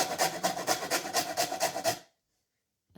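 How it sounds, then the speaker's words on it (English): Lemon rind rasped on a fine grater in quick rhythmic strokes, about a dozen close scrapes, then a pause before another stroke begins. "you want the fine grater, if you have one, to grate the lemon"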